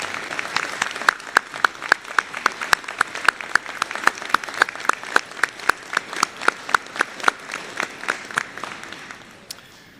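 A university commencement audience for a School of Business class claps at a moderate distance, with sharp individual claps standing out over a steady patter that tapers off toward the end.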